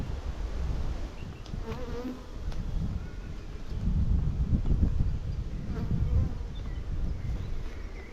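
Honey bees swarm around a full hive frame during honey extraction, producing a close, continuous droning buzz that swells and fades as individual bees pass nearby.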